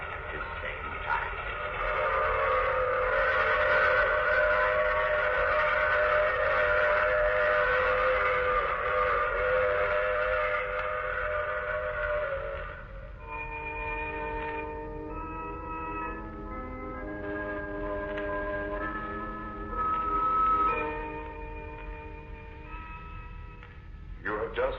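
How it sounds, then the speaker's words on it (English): A steam train effect from a 1950s horror radio drama: a long, loud sustained whistle chord with rumbling underneath, then shorter shifting whistle tones as the train pulls away. "I take this same train every week at this same time."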